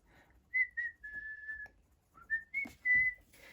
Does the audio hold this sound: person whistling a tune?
yes